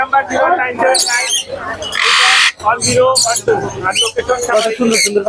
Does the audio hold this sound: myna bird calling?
yes